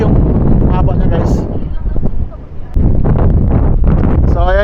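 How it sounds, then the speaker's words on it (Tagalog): Gusty wind buffets the microphone beside a river where someone is fishing, a loud, rough rumble that briefly dips and returns while someone talks over it. "So ngayon guys is medyo mahangin ngayon dito."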